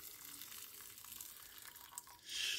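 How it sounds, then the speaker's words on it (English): Water poured into a pot while making jello, a steady splashing hiss that stays faint and continuous before swelling louder near the end. "Pour my water in there and just"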